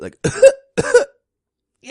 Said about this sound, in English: How's my pathetic cough doing?